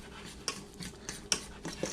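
A spoon scrapes and stirs a flour-and-butter roux in a pot, giving soft irregular scuffs with a few sharper clinks against the metal, close and fairly quiet.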